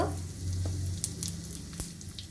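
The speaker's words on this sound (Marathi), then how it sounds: "मोहरी चांगली तडतडली की हिंग" Mustard seeds spluttering in hot oil, brief sharp pops and crackles over a soft sizzle, close and quiet, lasting only a couple of seconds with no talk.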